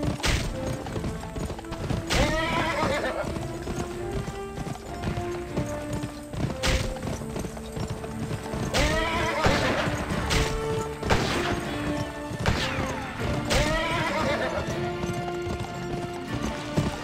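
Horse hooves clip-clopping at a steady gallop in the Western video game GUN, with occasional neighs, whinnies and sharp impact sounds layered over a continuous in-game music bed.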